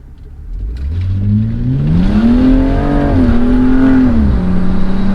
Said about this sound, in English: when I step on the gas it accelerates so quickly